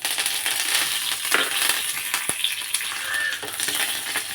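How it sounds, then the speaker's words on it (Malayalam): Curry leaves and dried red chilli frying in hot oil, giving a loud, steady crackling sizzle heard up close, with a few sharp pops and clicks scattered through it and no talking. "നമ്മുടെ കറിവേപ്പില ഇട്ട് കൊടുക്കുവാണ്"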